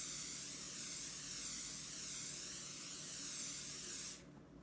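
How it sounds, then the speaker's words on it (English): Extra virgin olive oil spray spritzes onto cubed challah in one steady, close hiss that holds for about four seconds, then cuts off abruptly into near silence. "We want to first start by spraying extra virgin olive oil spray."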